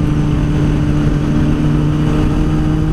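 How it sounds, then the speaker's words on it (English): A Cutlass car engine drones loud and close, a steady throaty roar with a constant low hum running through it. "He revs up his stuff, and he freaking takes off."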